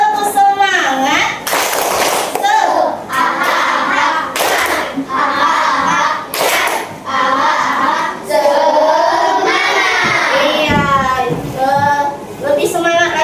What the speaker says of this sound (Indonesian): speakingnya yaitu tepuk semangat